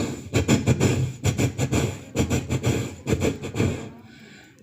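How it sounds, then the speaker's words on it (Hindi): A train rolls past on nearby railway tracks, its wheels beating out a steady, rhythmic clatter at close range for several seconds before the sound drops away. "पास ही से रेल की पटड़ी थी जहां से रेल गुजर रही थी।"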